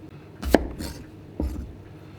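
A knife cuts through fresh ginger on a cutting board in two distinct chopping strokes about a second apart, close and fairly quiet against a still room.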